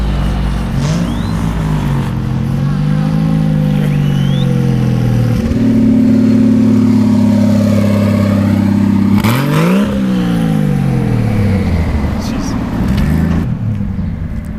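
Nissan Skyline GT-R R34 V-Spec II revving hard at a launch, the engine note climbing and dropping in loud sweeping pitch changes, with a second surge near the end and voices faintly underneath.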